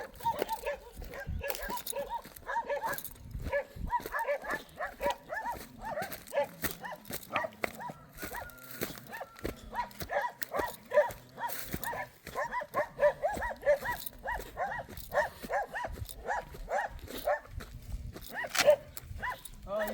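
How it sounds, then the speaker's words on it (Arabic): Dogs bark repeatedly in an open field at a surveyor, with the barks fairly distant and mixed with steady outdoor noise and talk throughout. "الحاجه اللي كاينه عند الطوبوغراف هي مني لقى الكلاب"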